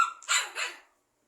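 A single sharp dog bark, close and fairly loud, with a quick double pulse before it cuts off into silence.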